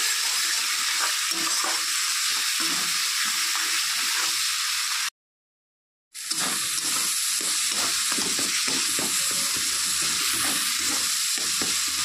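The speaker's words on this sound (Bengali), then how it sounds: "তো সব কিছু ভালো করে কষিয়ে নিতে হবে।" Spices and ginger-cumin paste for a thin katla fish curry sizzle and fry steadily in a pan while being stirred, a close, continuous hiss with a short silent gap midway.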